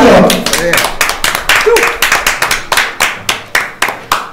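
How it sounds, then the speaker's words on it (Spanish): Audience applause at a karaoke festival in Aruba, heard as loud, distinct hand claps that thin into a steady rhythmic clapping pattern, with voices briefly audible under the opening burst. "Aplausos!"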